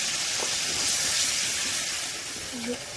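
Spices frying in oil in a kadai hiss steadily as a broad, even sizzle, close and continuous, with a faint voice barely audible underneath.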